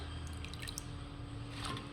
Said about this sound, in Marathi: आपण आता हे चाळणीत काढून घ्यायचे आणि गरम पाणी करायला आपण ठेवलेलं आहे पाणी हे निथरू द्यायचं